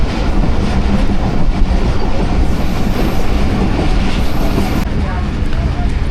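Shah Hussain Express train running, a loud close rumble of wheels and carriage noise with clickety-clack and a faint squeal, continuous throughout from onboard.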